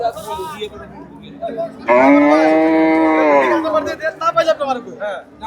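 Cattle at a busy rural cattle market in Bangladesh give a loud, long, close moo, with traders talking and haggling nearby before and after the call.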